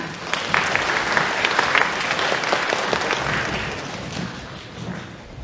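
Audience applause fills a school auditorium at an admissions information session for a science high school, a steady sustained clapping from a seated crowd lasting several seconds.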